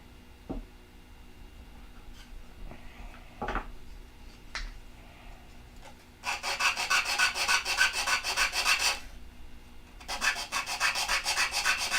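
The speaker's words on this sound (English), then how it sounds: "I think I could have used 80 grit sandpaper on that." Sandpaper rubs back and forth across a foam wing in two long, close, rasping bursts, after scattered light taps and handling noises, with no talking.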